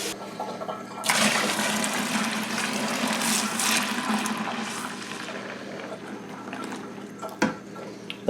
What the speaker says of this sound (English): we're going to continue to add hot water till it's pretty much full